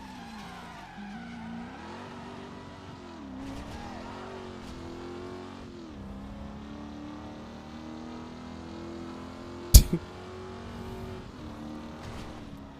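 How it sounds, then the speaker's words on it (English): Car engines hum and rev in Driver: San Francisco on Xbox 360, with a steady droning tone that rises and falls with acceleration, light tire squeal, and a single loud crash thud near the end. "the only thing I don't like about this game, I think, might be some of the engine sounds"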